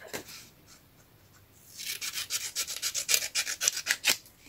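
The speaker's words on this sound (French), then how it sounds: "Je fais au ciseau." Scissors cut through thin card stock for a shabby-style ATC card and bookmark, heard as a close run of quick, rhythmic snipping and rasping strokes after a quiet start, with no talking.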